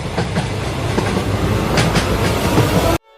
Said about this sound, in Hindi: ट्रेन आ गई, ट्रेन आ गई, ट्रेन आ गई।